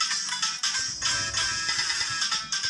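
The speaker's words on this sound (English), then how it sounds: "My phone's going off." A phone goes off during a Minecraft Bedrock mod review, a bright, steady electronic ringtone pulsing in repeated bursts, fairly loud and alone, with no talk over it.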